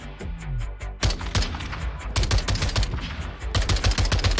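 Rapid sniper rifle fire in Call of Duty Warzone 2, loud sharp cracks in quick succession with a brief pause before a dense burst of further shots and echoing reports.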